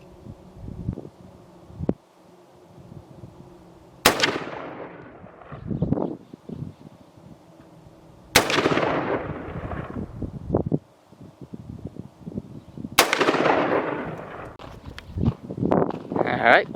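PSA PSAR-15 rifle gunshots crack sharply at an outdoor target range, three loud shots spaced several seconds apart, each with a ringing decay and rustling and faint speech-like sounds between.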